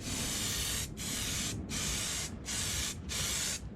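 An aerosol can sprays undercoat on a classic car in five loud, close hissing bursts, each about half a second long with brief pauses between them.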